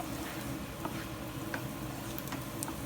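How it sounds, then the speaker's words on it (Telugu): Chopped onions frying in a pan for a capsicum and peanut fry give a soft, steady, low-level sizzle with a few faint crackles, heard alone. "ఇప్పుడు చూడండి, మనకి ఆనియన్స్ వేగిపోయినాయి."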